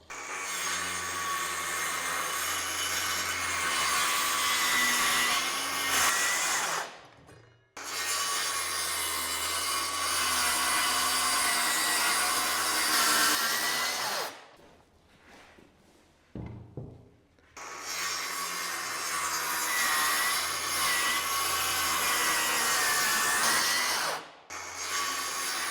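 A saw rips long wood boards into strips for building roll-away nesting boxes, loud and steady in three sustained passes with short pauses between cuts.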